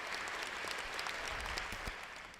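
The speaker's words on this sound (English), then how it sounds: "let's get a round of applause going for them" A round of applause from a livestream audience, a steady broadband clatter of clapping that holds fairly evenly for a couple of seconds and stays moderately loud, with no voices over it.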